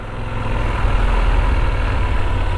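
Steady low engine rumble of a Yamaha Super Tenere 1200 motorcycle idling continuously, loud and close, with no talk and no change in pitch throughout.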